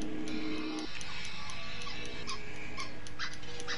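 A squeaky dog toy squeaks in a quick series of short, high chirps, repeated many times over a few seconds against the background of a PS4 racing game broadcast, no speech.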